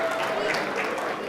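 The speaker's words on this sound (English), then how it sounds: "Can we get another big round of applause for all of our wonderful performers?" Audience at a children's charity gala applauding the performers: a dense, steady wash of clapping throughout, with a voice faintly under it.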